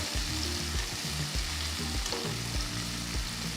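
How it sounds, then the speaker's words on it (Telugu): Two medium onions, thinly sliced, sauté in a pan with mustard seeds, a loud steady sizzle broken by repeated scraping strokes of stirring, close up with no voices. "ఈ టైంలో నేను 2 మీడియం సైజ్ ఉల్లిపాయలు సన్నగా తరిగి వేస్తున్నాను. వేసిన తర్వాత లైట్గా సాటే చేసుకోవాలి."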